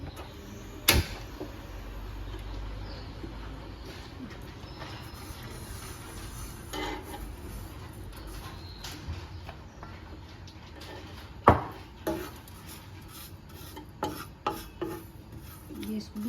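Cumin seeds being dry-roasted in a pan for a stuffed chilli dish give a quiet, steady scraping and rubbing with a few sharper knocks. There is no talk.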